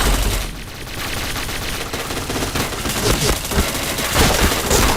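Rapid automatic gunfire in the shooter game Point Blank, dense overlapping bursts and booms filling the whole stretch at close range, loud and continuous.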